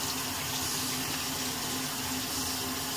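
Tap water runs steadily into a sink during a wet shave, a continuous close hiss and splash with no breaks.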